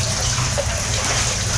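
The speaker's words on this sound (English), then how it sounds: "It's a bit of leakage of water, so there's got to be a water source above us" Water leaks and runs inside a culvert tunnel, a loud, steady, echoing gush that fills the space without pause.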